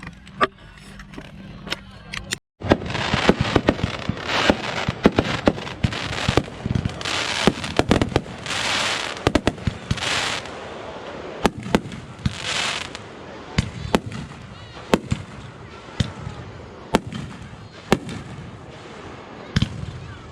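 Fireworks exploding on the Fourth of July, a dense outdoor barrage of loud crackling bursts and popping reports that go on nonstop for the whole stretch.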